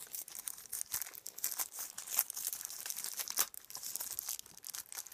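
A plastic bag holding Squinkies toys is opened, giving continuous close crinkling and rustling with sharp crackles and tearing snaps throughout.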